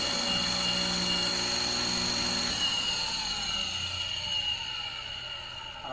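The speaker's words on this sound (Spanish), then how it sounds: "el motor está funcionando correctamente en vacío" A three-phase electric motor runs unloaded on a single-phase supply, giving a steady close whine with high tonal lines and a low hum that eases slightly toward the end.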